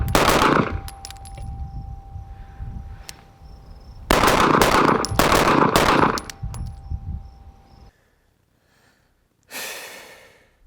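Staccato CS pistol fired in rapid strings, loud sharp reports bunched into fast bursts separated by brief pauses, with a final quieter burst after a moment of near silence.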